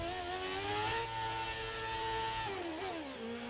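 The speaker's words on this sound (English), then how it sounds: "you start hearing his engine die down and he moves out to the side." An F1 car engine in the F1 22 video game at the Australian race, a sustained high whine that holds steady and then drops in pitch as it winds down, near and continuous.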